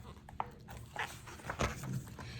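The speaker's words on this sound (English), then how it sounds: "Behind that fence, 3 big dogs, a little bit scary." Three big dogs behind a fence make short, scattered barks and whimpers at moderate distance over steady outdoor background noise, with no talking.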